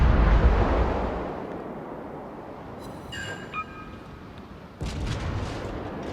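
In World of Warships, a Cleveland cruiser's naval guns fire HE shells, opening with a deep rolling boom that fades, followed by faint distant whistles and another muffled salvo.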